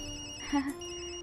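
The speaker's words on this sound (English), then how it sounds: "Sorry, Yumi. That's my phone." A mobile phone rings in the video game Tokyo Dark: a steady electronic ringtone holds throughout, with a brief voice breaking in near the middle.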